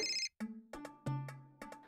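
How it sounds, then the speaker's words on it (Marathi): An electronic phone ringtone plays in repeated melodic bursts, close and clear, with a short gap after the first tone. "रिचाचा फोन इकडे."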